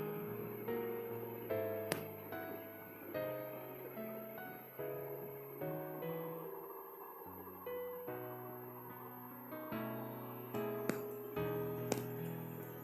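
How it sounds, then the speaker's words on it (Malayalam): A spoon clinks and scrapes against a bowl while mashed potato is mixed with salt and ground pepper, a rhythmic series of close, light knocks and bright taps with soft stirring sounds between them. "ഇനി ഇത് നന്നായിട്ടൊന്ന് മിക്സ് ചെയ്തെടുക്കാം."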